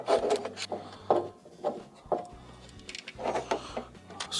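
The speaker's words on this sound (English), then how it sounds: "use a Phillips screwdriver, remove this" A Phillips screwdriver backs a screw out of the light socket inside a GE dryer during a repair. Close, short creaking and scraping bursts come in a halting rhythm with brief pauses between turns.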